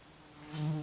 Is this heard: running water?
no